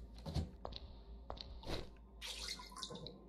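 Water splashes and sloshes in a few short bursts in the video game Deep Sleep, quiet and close, with brief pauses between the splashes.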